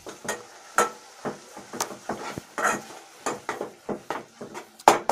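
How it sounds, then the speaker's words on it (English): Salt being stirred into green vegetables in a pot, a series of irregular scraping clanks of a utensil against the pot, close and moderately loud. "Mix it so that the salt can fit very well."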